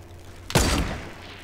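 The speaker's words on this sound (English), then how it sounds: "What's shooting at me from the lake?" A single sharp burst of gunfire from Fortnite Battle Royale, loud and close, decaying quickly into quiet game ambience.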